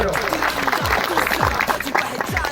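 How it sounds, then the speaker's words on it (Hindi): Crowd clapping at a large political rally in Jammu and Kashmir, dense and loud, with an amplified voice and chanting mixed in throughout. "मेरी सबसे जोरदार तालियां देने स्वागत करो।"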